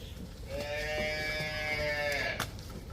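A heavy-bodied water buffalo at a cattle farm gives one long, drawn-out bellowing moo, close and clear over faint background noise.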